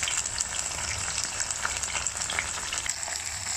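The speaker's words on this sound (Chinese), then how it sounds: "所以这个要用不粘锅来煎" Tofu skin rolls fry in a hot non-stick pan, giving a steady, dense hiss and crackle of oil that carries on evenly throughout, close and alone with no voices.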